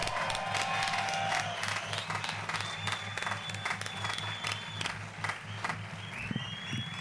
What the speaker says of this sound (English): I want a special big cheer and a round of applause for all of our volunteers